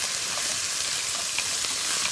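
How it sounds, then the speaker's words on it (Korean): Sliced lotus root and burdock stir-frying in a hot pan give off a steady, close, hissing sizzle with no pauses and no voices. "딱 넣었을 때 이렇게 지글지글. 지글지글 아주 기분 좋은 소리죠"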